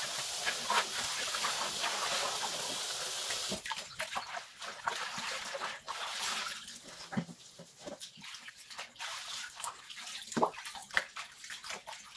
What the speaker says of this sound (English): it's imperative to give your vegetables a good wash prior to cooking